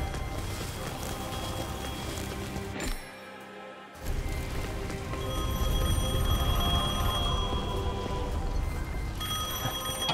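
A telephone rings repeatedly in the video game Devil May Cry 5, a steady electronic bell over busy game sound. The sound cuts out briefly and then resumes louder.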